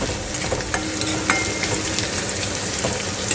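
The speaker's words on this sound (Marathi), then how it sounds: "हा बारीक चिरलेला कांदा घालायचा आहे इथे कांदा आपल्याला छान परतून घ्यायचा आहे" Finely chopped onion sautés in a pan with a steady, close sizzle and frying crackle, with occasional stirring scrapes and no talking.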